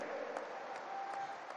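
A crowd at a political rally claps together in a dense, sustained burst of applause that holds steady throughout without any voice over it.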